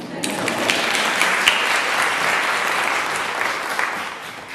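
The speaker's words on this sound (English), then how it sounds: "you can applaud if you like." Steady audience applause at a university convocation, many hands clapping in a dense, even patter with a few sharper individual claps standing out.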